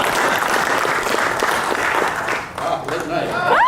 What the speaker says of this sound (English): I'd like to give a big round of applause to Chris here because he did a good job.